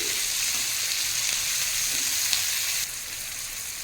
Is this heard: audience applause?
no